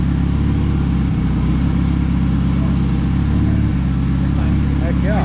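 A car engine fitted with a cheap T3 eBay turbocharger, intercooler and manifold hums loud and close in a steady throbbing drone with slight pitch shifts, while a voice briefly calls out over it.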